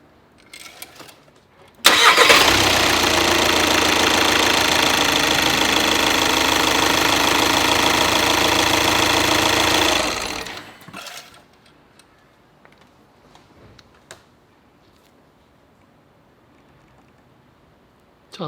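A Volkswagen Tiguan diesel engine cranks and catches, then runs at a loud, steady idle for about eight seconds before being shut off, followed by faint clicks and handling noise.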